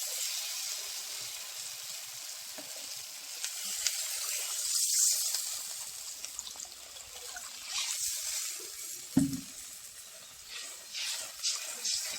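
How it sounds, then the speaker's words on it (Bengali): Water goes into well-fried masala for a raw banana and fish kofta curry, bringing a broad, hissing sizzle that rises and fades with a few splashy bumps, close and without talk. "মশলাটা খুব ভালো করে কষানো হয়ে গেছে, আমি জল দিয়ে দেবো"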